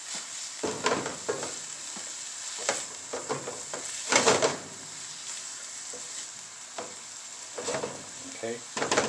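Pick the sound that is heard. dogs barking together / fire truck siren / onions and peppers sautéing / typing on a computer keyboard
onions and peppers sautéing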